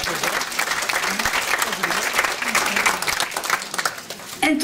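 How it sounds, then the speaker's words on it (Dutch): Audience applause fills a Chinese seniors' lunch event in Amstelveen, dense steady clapping from a crowd with some voices mixed in, ending with a louder burst. "Fantastisch, ook voor hem graag een groot applaus"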